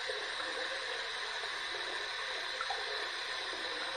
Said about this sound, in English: we're going to heat this up under some hot, hot, hot water